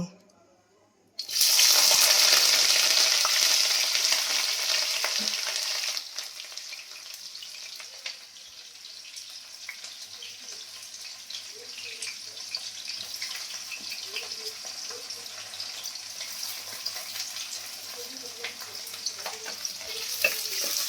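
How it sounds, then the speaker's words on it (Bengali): Sliced onions hit a hot pan with a sudden loud sizzle, then keep frying more quietly while a spoon scrapes and stirs them at intervals, for a home-cooked Bengali brinjal dish. "পেঁয়াজটা বাদামি বাদামি করে ভেজে নেব।"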